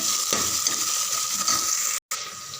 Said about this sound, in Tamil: தக்காளி 2, கொஞ்சம் கருவேப்பிலை, 2 செகண்ட் நல்லா வதக்கிடுங்க